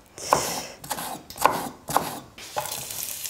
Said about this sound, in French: Je vais émincer mon oignon